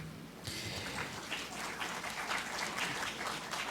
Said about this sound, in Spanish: Por eso pido un aplauso para él.